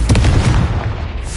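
A Confringo blasting spell explodes in Hogwarts Legacy, a single loud close booming blast with a brief rumbling tail, alone without speech.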